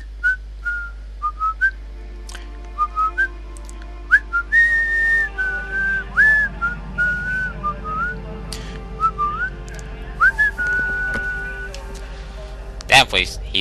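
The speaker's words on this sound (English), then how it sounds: "I know exactly the song you need to whistle." Whistled tune from the video game The Darkness, a melodic line of sustained and sliding notes played in phrases over low background drone, with a sharp burst near the end.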